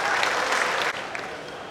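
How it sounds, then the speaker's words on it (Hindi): A mushaira audience at Chandivali Film Studio bursts into loud, dense clapping, a brief burst of many hands that dips slightly near the end. "पुरजोर तालियों से इस्तकबाल करें"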